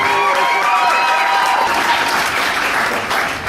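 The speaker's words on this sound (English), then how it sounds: "Dr. J. Harley, let's hear it again" Loud applause from a stand-up comedy audience, steady clapping with a few cheers filling the whole clip before it begins to taper slightly at the end.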